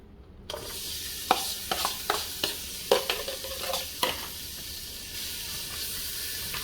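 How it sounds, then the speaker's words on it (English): Onions and garlic frying in a pot, a steady close sizzle with a series of sharp scraping clacks from a spoon stirring, irregular knocks over the continuous hiss and no voices. "Give them a quick stir. You don't want your garlic to burn."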